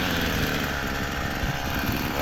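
An old weed whacker runs continuously with a steady, buzzing engine drone that holds constant throughout, close and fairly loud, with no distinct pull-start strokes standing out.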